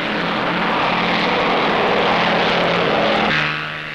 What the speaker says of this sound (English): Another Dutch entry, Parmentier and Mull in the KLM Douglas.